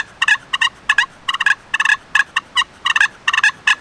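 Fighting purrs worked on a slate turkey call imitate squabbling turkeys: loud, close bursts of rapid, raspy purring and clucking come in quick uneven clusters with short gaps between them, and no voices are heard.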